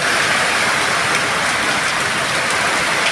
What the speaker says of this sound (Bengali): রাস্তার ধারে গাড়ি যাচ্ছে এবং ভীষণ বৃষ্টি